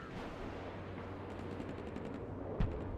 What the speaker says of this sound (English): We're being attacked by enemies with rifles, machine guns